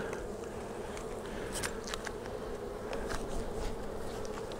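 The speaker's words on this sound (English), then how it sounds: "that's good temperament bees right there" A dense, steady buzz of many honeybees hums close by around an open hive, with occasional light knocks and scrapes over the continuous drone.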